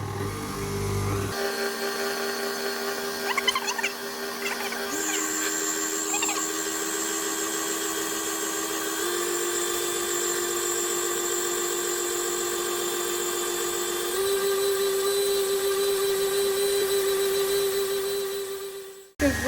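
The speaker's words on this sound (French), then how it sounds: "Donc j'ai mis ma crème, je vais commencer à fouetter tout doucement" Cream being whipped with an electric mixer for a strawberry tart, with butter added gradually; a loud, steady motor whine that shifts pitch in several steps across the speed settings, running continuously before cutting off at the end.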